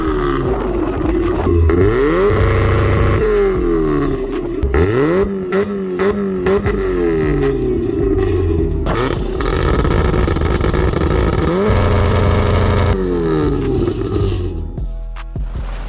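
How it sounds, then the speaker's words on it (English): A supercharged Mazda MX5 Miata on launch control, repeatedly revving hard with rising and falling engine notes, short cuts and pops between bursts, loud and close. "we decided to have a little play with the launch control"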